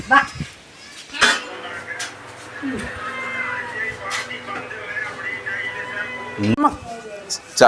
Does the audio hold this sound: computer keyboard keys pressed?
no